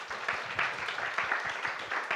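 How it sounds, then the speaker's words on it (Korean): Steady applause from a church youth gathering, many hands clapping at a moderate distance, continuous and even throughout with no talk over it. "박수해 주시겠어요?"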